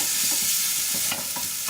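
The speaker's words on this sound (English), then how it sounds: "we're frying off our curry paste that we made earlier" Homemade curry paste sizzles in hot ghee while it is stirred, a close, steady frying hiss broken by soft scraping strokes.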